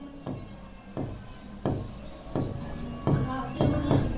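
Chalk or marker writing on a board during a classroom lesson: short scratchy strokes come in repeated bursts with brief gaps, while a teacher speaks between and over them.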